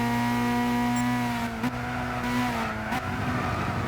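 A 2011 Lotus Elise fitted with a large rear wing, driven in the racing game Gran Turismo 6, its engine holding a steady, loud drone with brief dips as gears shift, and no talk.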